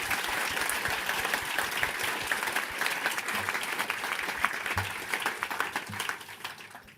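Audience applause for three panellists at a talk on disinformation, a steady patter of many hands clapping that holds for several seconds and slowly thins toward the end.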